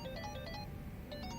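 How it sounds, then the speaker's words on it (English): A mobile phone ringtone trills repeatedly in a melodic electronic pattern inside Like a Dragon: Infinite Wealth, with two bursts of ringing over a low background hum and no talking. "Kiryu-san. Your phone's ringing."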